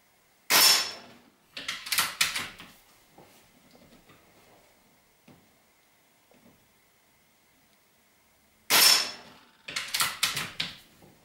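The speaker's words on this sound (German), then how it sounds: "Schießen wir einfach mal auf die gleiche Scheibe." A Mauser K98 PCP air rifle fires twice at a target, each sharp, loud report followed by a burst of clattering mechanical clicks from the action. Near-silence fills the long gap between the two shots.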